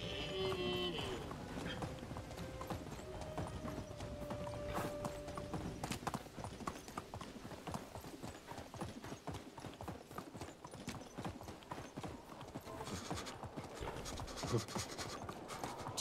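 Horse hooves clip-clop in a steady fast rhythm throughout a Medieval Dynasty gameplay ride, a continuous close galloping patter with faint background sounds.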